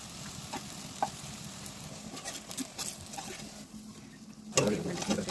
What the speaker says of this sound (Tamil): அதுக்கு மேலே திருப்பி கொஞ்சம் மஞ்சள் தூளும் சில்லி பவுடரும் போட்டு ஃபுல்லாக ஃப்ரை பண்ணிக்கலாம்.